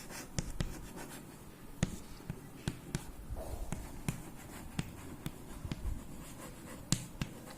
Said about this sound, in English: Write down the answer.